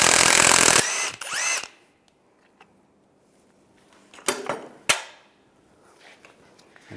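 Power tool spinning an 18mm socket to remove the front shock nut on a 2007-2013 Chevy Silverado 1500: a loud, brief whirring burst at the start, then quiet with a few sharp clanks and taps of tools on metal.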